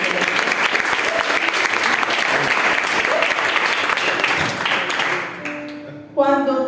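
Loud, sustained applause from a church congregation fills the room, dense clapping that fades near the end before a brief burst of music or tones.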